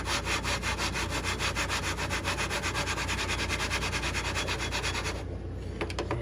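Steel rifle scope rings are lapped with a lapping bar, a loud continuous rhythmic scraping and rubbing of metal that stops near the end, leaving a few light clicks.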